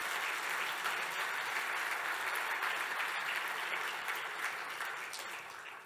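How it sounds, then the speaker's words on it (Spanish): A church congregation claps steadily during a Spanish-language worship service, a dense, continuous wash of applause that fades slightly toward the end. "¿Por qué no le damos un fuerte aplauso al Señor?"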